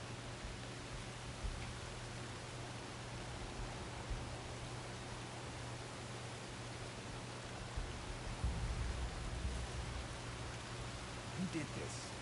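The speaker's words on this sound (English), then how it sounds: "Can't hear much over the rain." Steady rain hisses in Horizon Forbidden West, a broad, continuous wash of noise with a few faint taps and thuds near the end.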